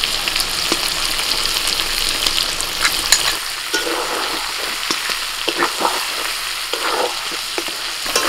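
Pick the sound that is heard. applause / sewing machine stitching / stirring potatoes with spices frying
stirring potatoes with spices frying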